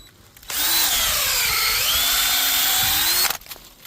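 A power drill bores a tap hole into a maple tree trunk, a loud, close whining drone that starts abruptly, bends slightly in pitch as it bites into the wood, and cuts off after about three seconds.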